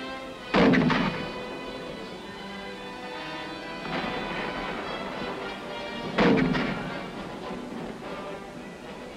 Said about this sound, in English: A gun crew fires a 105mm howitzer.